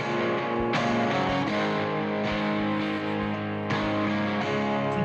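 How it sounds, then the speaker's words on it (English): Electric guitars play chords through a stereo widening plugin that adds grunge distortion and ring modulation to the side signal, giving a loud, saturated, buzzing sustained tone with sharp strums re-attacking every second or so. "this injects gnarly grunge distortion and ring modulation into the side signal"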